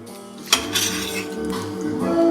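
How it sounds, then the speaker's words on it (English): Pineapple mac and cheese with broccoli being spooned into a baking dish: a sharp clank, then close scraping and light clinks of a utensil against the dish. "I'm putting it in a baking dish"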